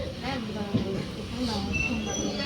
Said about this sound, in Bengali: তো আমরা এখন ট্রেনে উঠে পড়েছি।